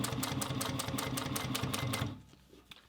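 A Juki TL 2010 Cube sewing machine stitches a bag panel in a fast, steady run of close mechanical clatter for about two seconds, then stops and leaves near quiet.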